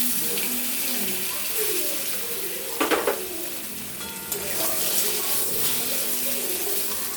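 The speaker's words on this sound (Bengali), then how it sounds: "এবার ওই তেলে আলুগুলোকেও হালকা করে ভেজে নেব।" Boiled potatoes fry lightly in oil left in the pan after eggs were browned, giving a steady, close sizzle with a brief clatter of stirring or handling near the middle.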